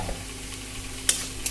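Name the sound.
stirring carrots cooking in a pan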